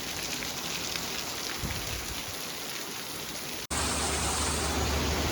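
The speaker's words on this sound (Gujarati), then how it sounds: "આવી ગયો ફૂલ વરસાદ, ધબધબાટી બોલાવે છે ગાજવીજ સાથે" Heavy rain pours down steadily in a dense, constant roar that briefly cuts out, then resumes just as loud, with wind, during a monsoon storm with thunder in a village near Junagadh, Gujarat.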